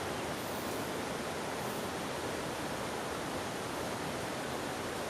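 Steady broadband rush of a river flowing past the riverbank at Gukan, a dense continuous wash of water noise, close and fairly loud, with no voices.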